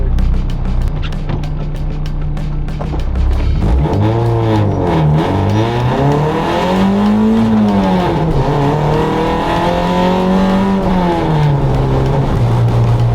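A race car on cold series-spec semi-slick tyres drives through torrential rain, its engine rising and falling in long revving sweeps through the gears, loud and close, with steady wet road and spray noise underneath.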